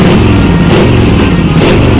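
A motorcycle engine runs close by, a loud, steady low rumble with no clear change in revs over the brief stretch.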